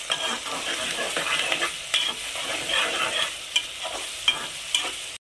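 Onions fry in a pan with curry leaves and green chillies for a fish pulusu, giving a close, steady sizzle. Sharp spatula scrapes break through it every second or so as the onions are stirred.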